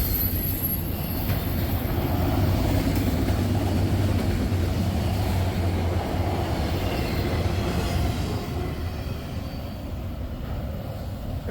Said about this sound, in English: Okay, that was a long train though